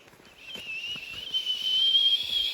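A woman on a mountain hike produces a thin, breathy whistle, holding one steady high tone close by that grows louder toward the end.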